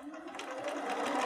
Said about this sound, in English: Let's go to the machine. Now we're going to sew this 1/4 inch seam allowance